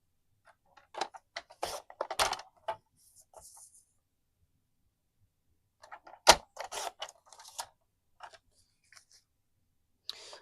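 Designer series paper being cut down to 4 by 5.25 for a handmade card, heard as two sparse clusters of crisp, close cutting snips and rustles separated by a quiet pause.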